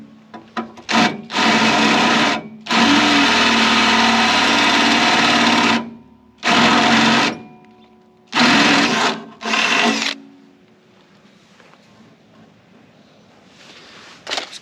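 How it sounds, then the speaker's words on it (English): A 12mm drill bit bores a hole for a grommet plug in a GQ rebuild, grinding in several loud, close bursts of varying length separated by short pauses, then fading to quiet rustling. "That was a 12mm drill bit."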